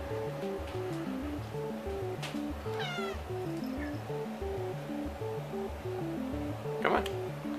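A pet cat gives a drawn-out, wavering meow over steady looping background music, one clear call midway and a short sharp cry near the end.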